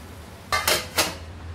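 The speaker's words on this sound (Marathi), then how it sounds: "गॅस कमी करूया, झाकण ठेवूया" A metal lid set down on a pan of methi bhaji cooking on a gas stove gives a few quick clattering knocks, close and moderately loud, with a low steady hum underneath.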